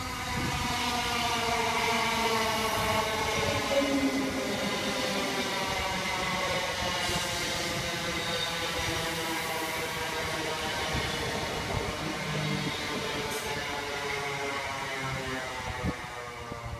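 A delayed Greater Anglia service, with class 321 units, pulls into Southend Airport station, a steady rising and falling traction motor whine and rumble of wheels, moderately loud and sustained throughout, with no talk.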